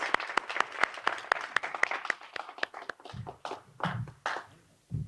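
An audience at a downtown leaders' celebration gives a short round of applause: sharp separate claps that thin out, with a few voices speaking over the end.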